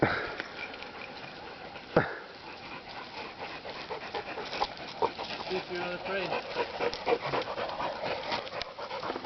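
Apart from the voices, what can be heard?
dogs sniffing and panting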